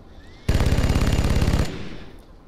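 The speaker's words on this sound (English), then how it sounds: "Farrokh hit that guy, or tried to shoot him, but missed." Automatic weapon fire in the XCOM: Enemy Within Long War mod, one loud rapid burst of evenly spaced shots lasting about a second, followed by a fading tail.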